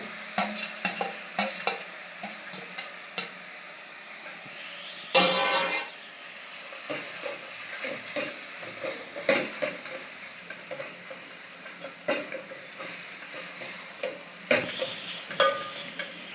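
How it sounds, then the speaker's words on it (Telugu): Fenugreek leaves (menthi kura) fry in oil in a pan with a continuous soft sizzle, broken by repeated scraping strokes as a spoon stirs them, close and steady, with no voices. "మెంతాకు వేసి కలిపేసుకొని ఆయిల్ మూత పెట్టేసి పెట్టేసుకోవాలి"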